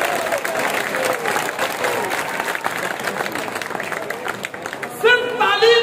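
Audience at a mushaira poetry event in a college setting breaks into sustained applause, a dense wash of clapping mixed with crowd noise, before a voice briefly cuts in near the end.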